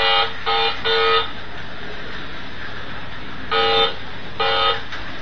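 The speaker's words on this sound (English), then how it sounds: "I'll beep the horn" A Lionel model train horn with a fixed horn board, fitted with an Electric Railroad TMCC / Cruise Commander Lite system, sounds from the remote in three quick blasts, then after a pause in a few more short honks over a steady motor hum.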